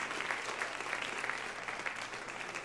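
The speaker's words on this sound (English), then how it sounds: "Applause for our panelists, please" A modest crowd at a local business gathering applauds a panel, even continuous clapping at moderate volume, with a few sharper claps and no voices over it.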